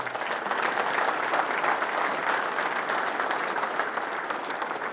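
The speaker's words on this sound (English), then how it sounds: "Give them a round of applause." Audience applause at an opening-remarks event, a dense, steady wash of clapping hands that fills the room at an even loudness throughout with no voices above it.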